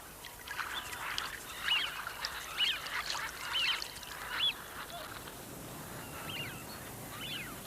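Ducks calling on the Scottish coast, a series of short honking quacks repeating roughly once a second over a soft steady background, moderately distant and without talk.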